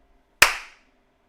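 One loud, sharp hand clap cuts through near-silence, a single crisp crack that rings and fades into a short reverberant tail, with a faint low hum in the background.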